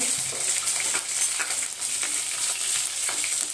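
Dry red and green chillies with a piece of cinnamon sautéing in hot oil, a dense continuous crackling sizzle up close, dotted with light stirring taps and scrapes throughout, with no voices.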